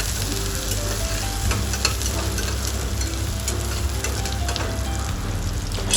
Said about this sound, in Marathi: हा कांदा थोडा लाल होईल तोपर्यंत चांगला परतवून घेणार आहे